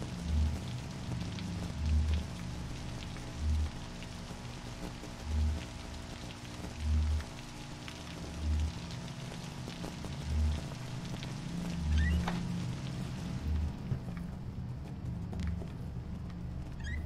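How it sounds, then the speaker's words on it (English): Rain pours down in the video game Observer, a continuous wash of patter with a regular low thudding pulse beneath it, steady and moderately loud throughout, with no speech. "Come on, it's fucking raining."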